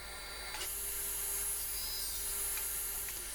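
A table saw trims a piece of MDF to length, heard as a steady, fairly faint motor hum with a brief cutting whine rising near the start and settling back, alone without speech.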